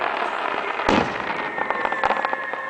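Fireworks at a 2006 outdoor public display in Pennington, with a loud burst near the start and smaller pops and crackles after it, plus a thin whistling tone running through the second half over steady crowd and music ambience.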